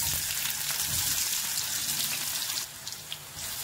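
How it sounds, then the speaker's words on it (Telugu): Onion pieces sizzle in hot oil with mustard seeds, a steady crackling hiss at moderate volume with small pops, quieting slightly toward the end. "ఆవాలు ఇలాగ చిట్పట్లు ఆడిన తర్వాత ఉల్లిపాయ ముక్కలు వేసుకోండి."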